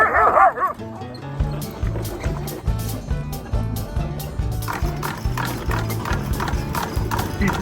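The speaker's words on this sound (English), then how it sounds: "We are now on the ride. Dog sleds. They are having fun." Sled dogs pulling a dog sled on a snowless ride in Willow, Alaska, with rhythmic paw and rig clatter and occasional barks running throughout, plus a short burst of voices at the start.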